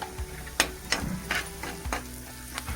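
Half a spoon of turmeric fries in a pan over browned onion for a Maharashtrian veg thali, a soft close sizzle broken by several light scraping stirs, with no talk.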